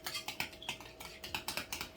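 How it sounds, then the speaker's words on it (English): Cucumber being chopped on a cutting board in a home kitchen, quick irregular knife taps in a brisk rhythm, close but fairly quiet, with no talking. "he's chopping up my cucumber"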